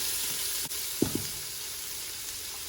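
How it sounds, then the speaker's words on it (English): Onion sizzling in an Instant Pot while being stirred, a steady close hiss with a couple of brief spoon knocks against the pot. "Now it's time for the onion. Let's stir that up a little bit."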